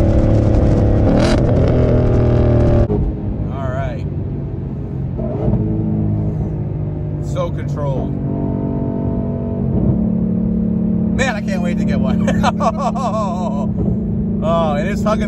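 A modified 2020 Shelby GT500 with a tune and upgraded exhaust accelerates in bursts, its loud engine rumble rising and dropping between shifts while people talk over it inside the car.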